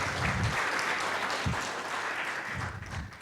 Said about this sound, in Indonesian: Berikan tepuk tangan meriah buat Tuhan kita.